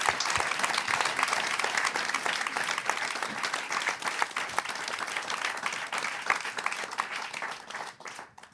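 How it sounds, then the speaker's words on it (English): Audience at a panel discussion gives a sustained, dense round of applause, loud and steady throughout before tapering off at the end. "Can we please give another round of applause for our panelists?"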